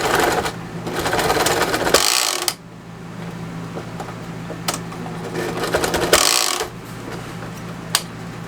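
A sewing machine stitches through a thick hunting stand cushion corner in steady bursts, running fast and loud up close, pausing briefly between runs with softer mechanical clicks in the gaps.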